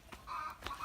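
Chickens in a hen house on a community farm, giving a few short, quiet clucks that rise over faint background noise in two brief bursts.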